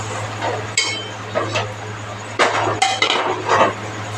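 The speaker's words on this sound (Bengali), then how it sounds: "এখন পায়েসটা এখানে দিয়ে দিচ্ছি" Mango payesh is spooned into a dish: several clinks and scrapes of a spoon against dishware over a steady low hum, close by.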